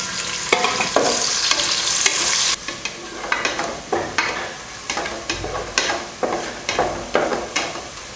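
Two large onions, sliced lengthwise, fry with spices for tomato rice, a loud close sizzle with a brisk, regular run of spatula scrapes against the pan.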